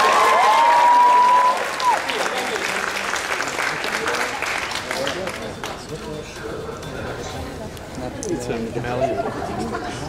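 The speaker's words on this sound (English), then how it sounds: "One more big round of applause for Iron Man." Loud audience applause at an anime convention costume contest, starting strong with a whoop and gradually thinning into scattered clapping and crowd chatter over about ten seconds.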